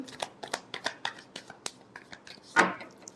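Tarot cards being shuffled by hand in a last shuffle during a reading: a run of quick, crisp riffling flutters and taps, close and fairly quiet, ending in one louder swishing burst.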